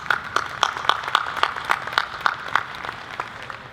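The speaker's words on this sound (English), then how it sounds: "let's give our panel a round of applause" An audience claps for a panel at a port financing and investment forum, a thin, steady round of evenly spaced claps at close range with no voices over it.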